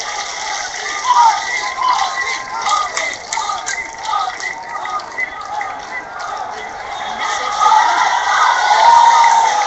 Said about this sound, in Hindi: भोपाल की जनता जनार्दन दोनों हाथ ऊपर तालियां बजाकर मोदी जी का आह्वान करे